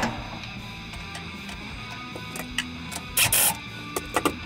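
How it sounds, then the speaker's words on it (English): A milling machine with a roughing end mill cuts knife steel for an integral Bowie blade, holding a steady tonal mechanical whine and hum broken by a few sharp, brief bursts near the end. "I'm using a big old uh, roughing mill and then I'll put the quarter inch fine mill on here."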